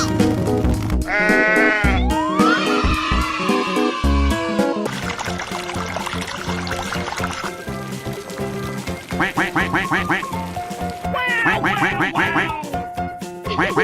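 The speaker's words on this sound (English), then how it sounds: "Sheep." Cartoonish sheep bleats in a children's animal escape-room game, repeated wavering calls over busy music and sound effects, loud and up front.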